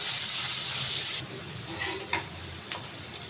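Bottle gourd stir-fried in a pan makes a loud bright hiss at first that then drops to a softer sizzle with occasional scraping stir strokes. The sound is close and has no voices.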